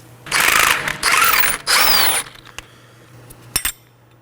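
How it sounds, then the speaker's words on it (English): A ratchet wrench loosens the 18mm strut mounting nut on a 2018-2024 Chevrolet Equinox, three bursts of loud rapid clicking followed by a few light metallic taps. "I'm going to support this side with a wrench and remove the nut on this side."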